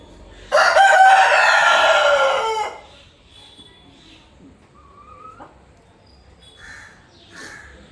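A farm hen lets out one loud, raspy squawking call lasting about two seconds, close by, followed by softer clucks and faint bird sounds in a quiet yard.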